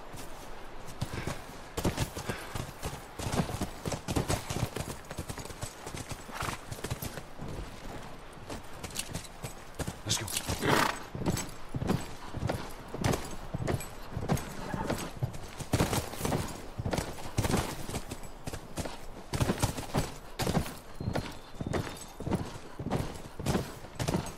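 Steady clip-clop of several horses walking on hard ground in The Last of Us, hooves beating in a loose, continuous rhythm with an occasional snort, close and fairly loud.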